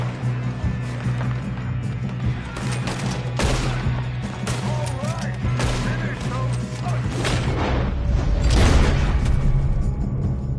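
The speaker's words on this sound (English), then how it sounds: "Good shooting, kid." Rapid bursts of gunfire and booming shots crackle through a Red Dead Redemption 2 shootout, loud and layered over a continuous low rumble of game ambience, with speech-like sounds mixed in.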